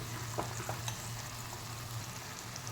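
Dosa masala with turmeric, salt and onions cooking in a pan, a faint, soft frying hiss with a few light stirring scrapes, quiet and steady over a low hum, no voices.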